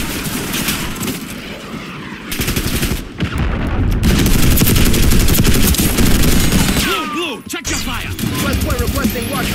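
Sustained automatic gunfire and rapid bursts in the Call of Duty: Black Ops 6 open beta, loud and dense with booming impacts, broken by a short pause and a brief shout of radio-style voices.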